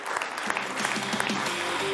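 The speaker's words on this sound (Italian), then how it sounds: "facciamo un applauso alla Croce Rossa di Chiavari" A crowd claps steadily, a dense patter of hands filling the whole stretch, with a few louder individual claps standing out.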